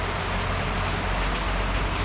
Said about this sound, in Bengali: ভীষণ জোরে বৃষ্টি পড়ছে